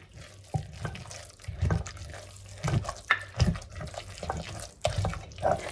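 Hot water is poured over grass flowers and fish for a homemade soup, a soft uneven trickle with splashy pulses and drips, close by and fairly quiet.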